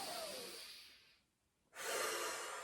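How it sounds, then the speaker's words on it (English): Two deep breaths during a Pilates stretch, a long airy inhale followed by a short pause and another strong breath, close and clear with no talk. "Take a big deep breath in"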